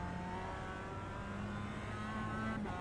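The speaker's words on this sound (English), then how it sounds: "There's a car approaching." A race car at the Brands Hatch circuit, heard as a steady, fairly loud engine drone that gradually builds as the car approaches, with no talking.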